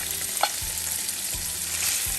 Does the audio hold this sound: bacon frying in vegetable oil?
yes